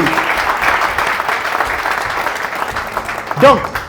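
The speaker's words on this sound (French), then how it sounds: "On peut applaudir quand même, hein?" Audience applause at an entrepreneurship training seminar, dense clapping that fades gradually, with a voice briefly cutting in near the end.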